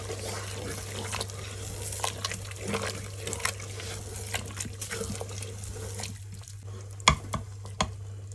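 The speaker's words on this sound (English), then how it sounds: "Give them a good stir." A spoon stirs chicken mince with peas in a pan, producing soft scraping and light sizzling with a few sharper clinks, close but fairly quiet over a steady kitchen hum.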